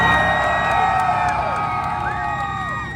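A large crowd at an import car rev battle in Woodburn, Oregon cheers and whoops loudly for a red Honda, a dense continuous roar of shouts and screams that slowly fades.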